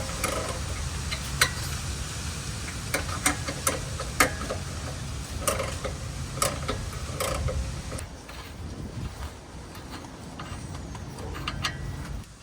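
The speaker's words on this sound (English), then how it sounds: "I got the 18 ratchet wrench here." An 18 ratchet wrench clicks in quick, uneven bursts while loosening a steering stabilizer on a Jeep Wrangler, sharp metallic ticks standing out close against a low rumbling background for the whole stretch.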